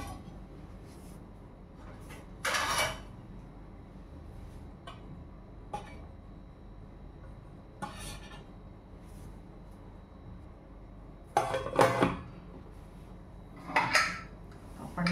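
Metal pots and dishes are set inside a pressure cooker, giving several close clanks and scrapes at irregular intervals over a quiet kitchen background.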